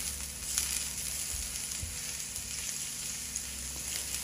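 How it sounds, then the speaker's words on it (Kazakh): Chopped garlic fries in liquid oil in a pan, giving a steady, close sizzle with faint crackles throughout and no voices. "Табаға сұйық май құйып, бірінші туралған сарымсақты салып қуырып аламыз."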